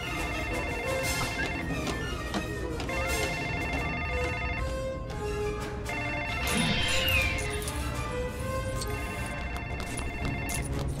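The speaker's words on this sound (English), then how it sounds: "Mr. Hammond, the phones are working." A telephone rings repeatedly in the LEGO Jurassic World video game, sounding in regular bursts over a steady bed of game music and ambience.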